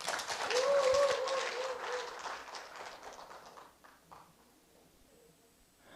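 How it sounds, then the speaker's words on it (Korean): Applause from the audience at a civic presentation contest in Sejong as a citizen police volunteer comes up to speak, dense clapping that starts loud and thins out over a few seconds. "박수로 맞이하겠습니다."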